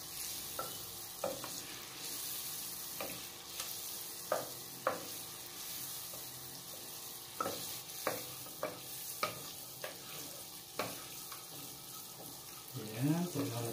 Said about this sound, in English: mahina lang po yung ating apoy para hindi po masunog agad ang butter